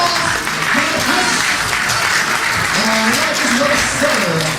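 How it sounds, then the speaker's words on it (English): Audience at a magic show applauds a volunteer named Chris, a steady, dense wash of clapping filling the room throughout, with a voice speaking over it. "Let's give Chris a big round of applause!"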